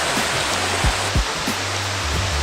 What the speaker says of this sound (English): I ran into this river